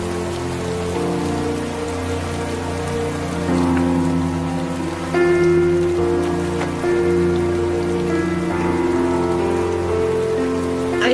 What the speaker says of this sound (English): I think we need to get in and out of the rain now.